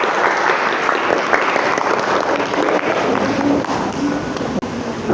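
Classroom applause for a presenting student group at a vocational high school, steady clapping from many hands filling the room, close and loud throughout, with a brief dip near the end.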